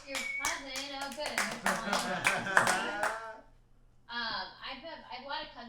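A small group clapping at an online open mic comedy show, quick scattered claps mixed with talking and whoops for about three seconds, then a pause and more speech.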